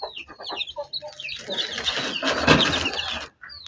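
A second batch of newly hatched chicks cheep and peep busily at feeding time, their high chirps overlapping close by, with a brief flutter of wings.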